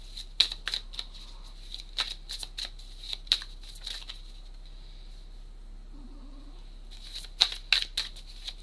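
Tarot cards being shuffled close by in brisk riffling bursts, with a long quiet pause in the middle before a final flurry of crisp card flicks.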